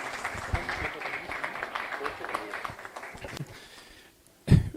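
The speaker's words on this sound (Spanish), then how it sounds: "Un aplauso para Sacha Llorenti y sus palabras ahora en este panel." Audience applause at a progressive political forum panel, a steady broadband patter of many hands lasting about four seconds before fading, followed by a brief loud thump near the end.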